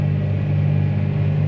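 Tractor engine idling steadily with a deep, constant low hum and rumble in a beet field, with the machine up close and no other sounds.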